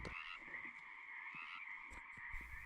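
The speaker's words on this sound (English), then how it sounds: "we got a little froggy here" A frog croaks steadily at a pond, a continuous buzzing trill that carries for the whole stretch, with a few soft knocks and rustles nearby.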